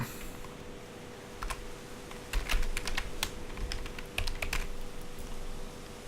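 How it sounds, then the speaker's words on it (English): Steady typing on a computer keyboard, with quick irregular bursts of key clicks at close range over a quiet, faintly humming room; no one speaks. "I'm still typing as if I'm saving files"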